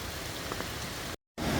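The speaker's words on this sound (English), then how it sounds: "the rain's coming down pretty hard now, eh?" Heavy rain pours down in the Daintree rainforest, a steady dense hiss of drops filling the air, broken by a brief silent gap near the end before the downpour resumes.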